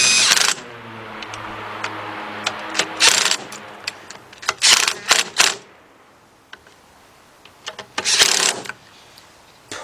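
Power tool tightening bolts during head gasket replacement on a Nissan, heard as short bursts of whirring and rattling with quiet pauses between them, close by.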